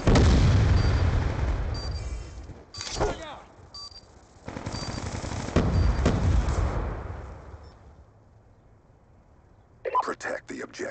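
A Death Machine rotary gun firing in a video game: heavy bursts of rapid gunfire and booms separated by short gaps, with in-game voices and talk over the action.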